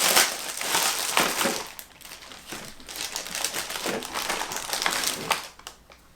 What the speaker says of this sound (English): Let's just rip into it.